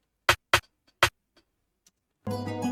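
A snare drum sample is triggered in FL Studio, giving three sharp, crisp cracks in quick succession, followed by a short burst of fuller music.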